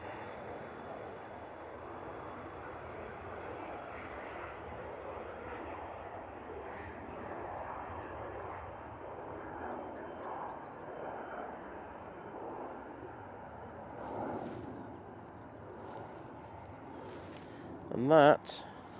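A VistaJet business jet takes off from runway 05 left at Manchester Airport. Its engines give a steady, distant broadband roar under talk, with a brief louder burst of noise near the end.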